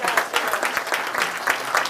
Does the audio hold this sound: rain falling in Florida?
no